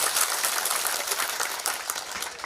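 A crowd at a spiritual discourse applauds vigorously, dense rapid clapping sustained throughout at full volume with no speech over it.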